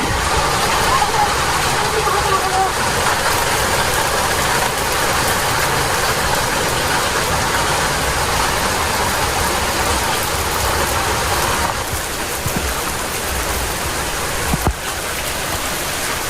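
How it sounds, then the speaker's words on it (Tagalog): Heavy habagat monsoon rain pours down in a dense, unbroken hiss of water on surfaces, steady and loud throughout, with voices talking beneath the downpour. "Lakas ang ulan, oh."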